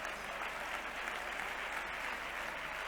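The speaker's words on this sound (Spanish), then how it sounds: "estáis como muy de aplaudir" Audience applause at a popular maths talk, a faint, even wash of clapping that holds steady and unbroken throughout.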